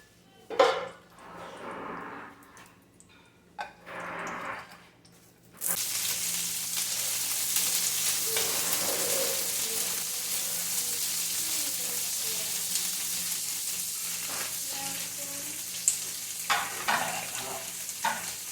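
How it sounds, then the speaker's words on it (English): Vegetables and onion frying in baking grease in a pan make a steady, close hiss that switches on after a few seconds of quieter kitchen handling and then runs on evenly, with a few faint clinks. "this is some baking grease, what I'm using to fry up my vegetables"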